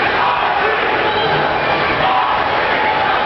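A loud, dense crowd of Occupy LA protesters chants and shouts in unison at a downtown Los Angeles Art Walk clash with LAPD, a continuous roar close by.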